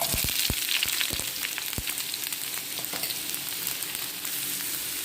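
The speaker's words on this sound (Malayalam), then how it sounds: "നല്ല ബ്രൗൺ കളർ ആവണ വരെ തന്നെ ഈ സവാള നമുക്ക് വഴറ്റി കൊടുക്കണം" Onions frying in coconut oil in a hot pan for a country-style beef curry cooked over a wood fire, a continuous close sizzle with a few sharp spatula knocks and scrapes early on.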